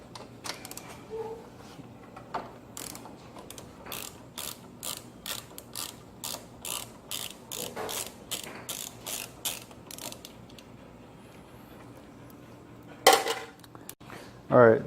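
A ratchet loosening bolts on a motorcycle gives a run of sharp, evenly spaced clicks, fairly close and clear. A couple of louder metallic clanks follow near the end.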